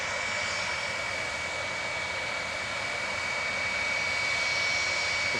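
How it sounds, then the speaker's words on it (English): A Boeing 757-200 with Rolls-Royce RB211 engines at Manchester Airport, heard as a steady, loud jet engine roar with a constant high whine running through it, holding at one level the whole time with no talk. "757-200 with its beautiful RB211s and little robot on the landing gear at the front pulling it along"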